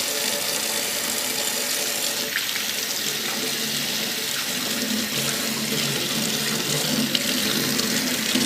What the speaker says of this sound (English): Good rinse.